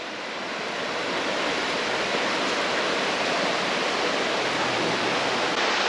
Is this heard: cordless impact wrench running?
no